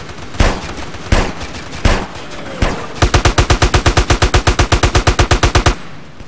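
Video game shootout with loud gunfire: four spaced single shots, then a rapid sustained burst of automatic fire, close and dominant with no talking.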